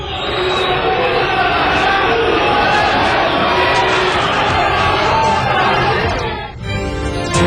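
Large football crowd at the Orlando Scarpelli stadium booing Figueirense after a home loss to Internacional de Lages, a dense, loud, sustained roar of jeers that briefly dips near the end.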